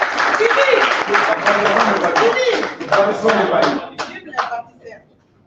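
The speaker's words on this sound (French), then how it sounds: "La jeunesse applaudissait pour votre président" Young people at an elective general assembly applauding, a dense burst of clapping that fades out into a few scattered claps, with voices talking over it.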